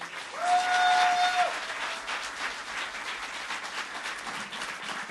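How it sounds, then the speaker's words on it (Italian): An audience at an evening music event at a voice academy applauds the musicians, steady crowd clapping that swells early then holds, with a brief high whistle-like tone near the start. "vi chiederei un grandissimo applauso"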